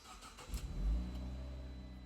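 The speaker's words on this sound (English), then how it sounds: "Now let's restart the vehicle" A 2012 Fiat 500's engine cranks and catches, a low rumbling surge that settles into a steady quiet idle, fairly faint and alone.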